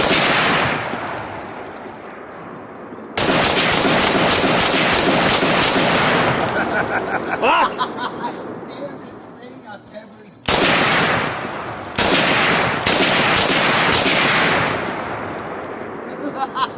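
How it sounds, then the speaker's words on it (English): Outdoor rapid gunfire aimed at a floating target, long loud bursts of repeated shots with a short pause between strings, echoing across open ground while people shout in between. "Oh no! It's floating! Shoot it!"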